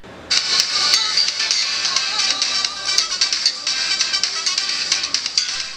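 Music plays through the small speaker of a Samsung Gear S3 Frontier smartwatch, thin and bright with little bass, steady for several seconds with no talking.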